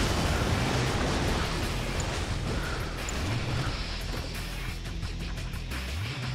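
Torpedo blasts in a naval combat video game, a dense, continuous rumble of heavy explosions and booming bursts rolling over one another without pause, loud and close.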